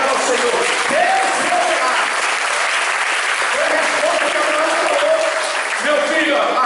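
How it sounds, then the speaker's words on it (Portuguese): A church congregation claps in dense, continuous applause during a sermon, a loud wash of hands filling the room while a voice sings or calls out over it. "Vamos aplaudir e glorificar ao Senhor."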